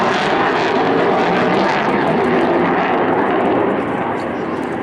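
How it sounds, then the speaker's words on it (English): RAF Typhoon FGR4 jet engines in max reheat at an airshow, a loud, continuous broadband roar that stays steady and powerful throughout. "He's going to slam those throttles into max reheat, accelerating back up to 600 miles an hour."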